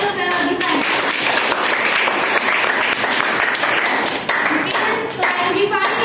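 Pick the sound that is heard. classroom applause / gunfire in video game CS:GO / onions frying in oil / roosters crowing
classroom applause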